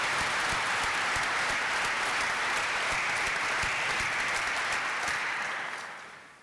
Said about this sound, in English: I'd like you to join me in giving a round of applause for Dean Kettle